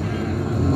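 A voice imitating a roaring diesel train engine, a steady low droning rumble held without a break.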